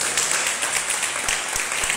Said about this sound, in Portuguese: E você que crê, aplauda, glorifica e exalta o nosso Deus.